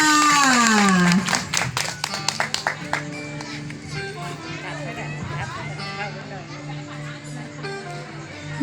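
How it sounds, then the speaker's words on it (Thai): Audience clapping bursts out at a kindergarten sports day, then continues as scattered applause under a crowd's chatter, with a sustained tone in the background. "ขอเสียงปรบมือให้กับน้องอนุบาลหน่อยค่ะ"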